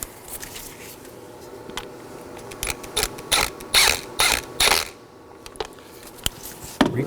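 A 10mm ratchet tightens a bolt on a Nissan Sentra 1.8L valve cover, several quick bursts of clicking pawl ratcheting in a row, close and crisp over faint background noise, with no voices.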